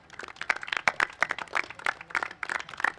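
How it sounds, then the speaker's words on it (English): An audience at a school Honours' Day ceremony claps for tiny children on stage: brisk, scattered applause from a moderate crowd, steady and fairly near. "give these tiny tots a huge round of applause"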